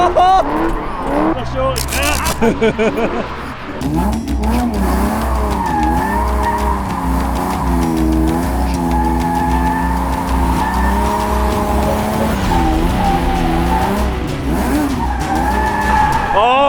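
A car drifts with tires skidding and squealing in long wavering howls over a steady engine drone, after a brief burst of revving; a voice exclaims briefly near the start.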